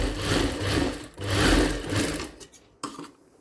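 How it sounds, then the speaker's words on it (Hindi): A sewing machine stitching a designer blouse, running in two clear bursts of rapid whirring needle strokes, then a few short stops and starts before falling quiet, close by with no talking. "इस पर भी सिलाई लगा देंगे"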